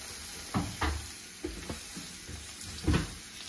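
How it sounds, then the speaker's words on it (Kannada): Tomato goes into a frying pan, bringing a soft sizzle under a few distinct knocks and scrapes of a utensil, quiet overall. "ನೋಡಿ ಫ್ರೈ ಆಗ್ತಾ ಇದೆ. ಈಗ ನಾನು ಟೊಮೆಟೊ ಹಾಕ್ತಾ ಇದ್ದೇನೆ."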